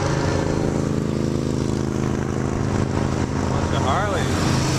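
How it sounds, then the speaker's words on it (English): A bunch of Harley-Davidson motorcycles pass on a US highway, their engine drone blending into the constant loud road and wind noise inside a moving vehicle. "Bunch of Harleys."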